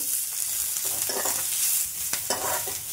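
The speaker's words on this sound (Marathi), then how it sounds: "चमचाभर तेलामध्ये चांगला कांदा फ्राय करून घेऊ." Onion frying in a spoonful of oil produces a soft, even sizzle with a few scraping stirs of a spoon, close and steady.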